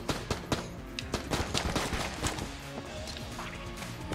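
Rapid bursts of gunfire from the video game Enter the Gungeon, dense and continuous with sharp repeated shots and crashes layered over a game soundtrack, loud and busy throughout.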